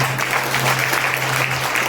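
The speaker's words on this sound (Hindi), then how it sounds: "जोरदार ताली बजा के ताली" A church congregation at a Pentecost service claps loudly together, a dense steady burst of applause over a constant low electrical hum, lasting under two seconds.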